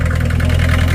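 A truck engine idles steadily and loudly up close, a deep low rumble with a constant vibrating drone and no talk over it.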